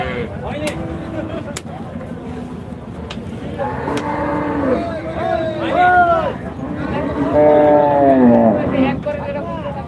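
Large dairy cows moo at Rajshahi City Hat cattle market in Bangladesh, giving several long, loud, overlapping lowing calls amid crowd babble and someone talking nearby.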